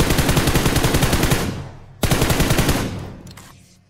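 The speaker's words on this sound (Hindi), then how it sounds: "और क्या ही मैंने M4 का स्प्रे दिया उसको" An M4 rifle sprays in the mobile game BGMI: two rapid, rattling full-auto bursts, each about one and a half seconds long, loud and close, with the second trailing off.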